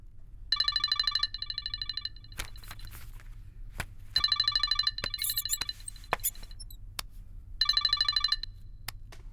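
Telephone bell rings in three distinct bursts of rapid trilling, loud and close, with a quiet low hum between rings and no talking.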